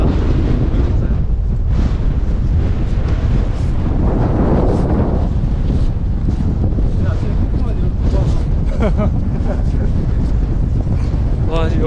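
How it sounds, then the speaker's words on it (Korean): Strong wind at a hilltop paragliding launch site buffets the microphone in a constant, loud, rumbling roar that swells and gusts throughout without letup. "근데 여기 바람 너무 심하게 분다."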